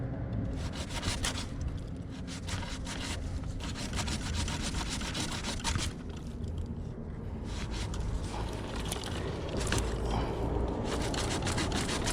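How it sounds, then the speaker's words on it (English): A hand saw rasps steadily through a branch of a willow-leaf pear tree, cutting from underneath, long back-and-forth strokes continuing in a rough rhythm with no talking. "start by just sawing underneath here"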